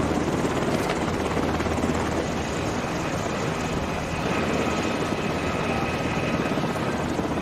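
Helicopter rotor and engine noise roars steadily throughout, loud and close, during a film scene of refugees being evacuated by air amid the Nigerian civil war.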